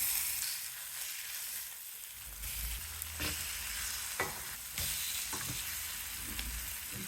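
Marinated fish pieces fry in a pan with a steady, moderate sizzle, punctuated by a few clacks and scrapes as they are turned.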